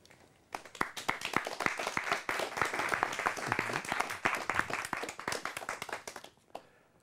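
An audience at a Toastmasters club event breaks into applause, a close, dense patter of many hands that swells after a quiet start, holds strong for about six seconds, then tapers to a few last claps.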